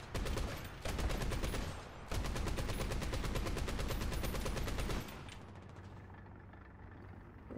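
Four machine guns firing in a video game: loud, rapid, evenly spaced shots in sustained bursts with two short breaks, then the fire stops and only a low engine-like drone remains.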